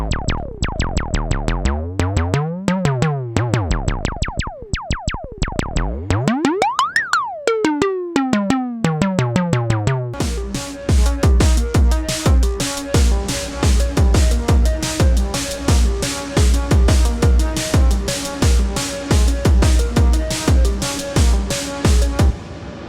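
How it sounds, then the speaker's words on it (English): Wavetable synth notes using frequency modulation, with bright, warbling harmonics, sweep and bend in pitch, then settle into a dense, buzzy rhythmic sequence that keeps going, loud and steady. "If we go into frequency modulation though,"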